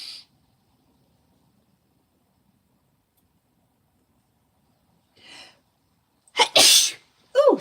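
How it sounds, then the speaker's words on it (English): After a long quiet stretch and a soft inhale, a person lets out one sharp, close sneeze, followed by a brief breathy vocal sound. "I'm going to sneeze."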